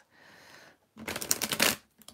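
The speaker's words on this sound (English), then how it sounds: "I just like to get a good shuffle between readings." A deck of tarot cards riffle-shuffled up close: a soft rustle, a short pause, then a fast, crisp riffle burst and a couple of final taps.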